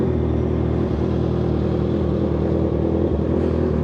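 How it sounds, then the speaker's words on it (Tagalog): A 2025 Honda CBR650R motorcycle fitted with an SC Project exhaust runs close by, giving a steady, loud, throaty idle with a continuous low pulsing rumble and no talking. "SC Project Exhaust."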